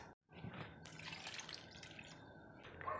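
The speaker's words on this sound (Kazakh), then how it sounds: "Осылай қуырылған біздің көкөністеріміздің үстіне жайлап суымызды құямыз." Water trickles and pours steadily onto fried vegetables and tomatoes in a pan while making flour kuyrdak, a continuous liquid splashing close by, with no voices.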